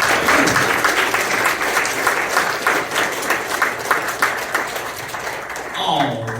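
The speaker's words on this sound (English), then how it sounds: "Let's hear a round of applause so far" Audience applause at a Sonic Adventure 2 convention panel, Utah Retro Games Expo 2025: a crowd claps loudly and continuously, then thins out toward the end while a voice talks over it.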